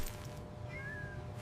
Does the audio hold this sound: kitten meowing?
yes